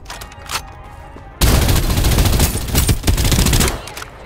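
Gunfire in Farlight 84, a loud sustained burst of rapid automatic fire that erupts suddenly after a quieter lead-in and rattles on for about three seconds, close and dense.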